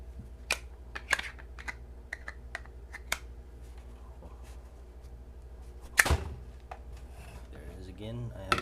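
A Kydex knife sheath clicks shut on its detent in sharp, isolated snaps spread across several seconds, with one louder click and faint handling rustle around them.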